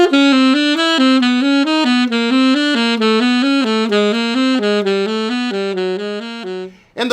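Jazz scale cells played as a steady run of bright, even single notes descending chromatically, loud and close with no talking, ending in a brief pause near the end.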